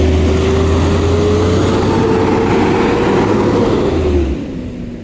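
Garbage truck engine on a city street in the South End, a loud steady rumble with a droning tone that shifts slightly, then drops off near the end as the truck moves away.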